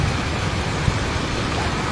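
Heavy rain pours down during severe flooding in Davao, with rushing floodwater adding a steady, dense, unbroken roar throughout.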